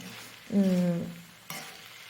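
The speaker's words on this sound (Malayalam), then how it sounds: "ഇടയ്ക്ക് ഒന്ന് ഇളക്കിയിട്ട് യോജിപ്പിക്കുക" Ivy gourd (kovakka) fry being stirred in a pan in a Kerala kitchen, a soft scraping stir over a low sizzle, with a brief harmonic tone mid-clip and a faint clatter near the end.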